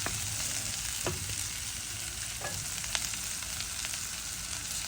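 Onions sizzle steadily in a pan while fenugreek curry is being cooked, with a few light stirring scrapes over the constant frying hiss.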